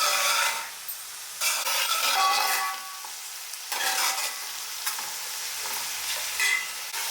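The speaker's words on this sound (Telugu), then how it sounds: "ఆనియన్స్ అన్నీ యాడ్ చేసుకుని ఆయిల్లో మంచిగా కలుపుతూ మిక్స్ చేసుకోండి" Onions frying in oil in a pan for a chicken fry piece biryani, sizzling steadily while being stirred, with scraping sweeps of a spoon rising and falling close by and no talk.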